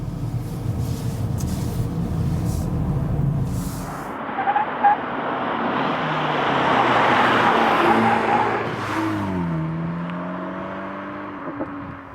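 A car sweeps through winding corners, its engine note rising and falling with shifts, tires briefly squealing mid-run and a revving climb near the end, close and fairly loud, with no talk.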